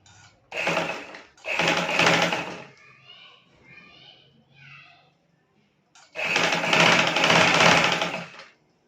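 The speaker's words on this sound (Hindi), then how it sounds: "सीधी सिलाई लगा देंगे" A sewing machine runs a straight seam on a baby frock in two quick bursts, then a longer run after a pause, with someone talking softly between the bursts.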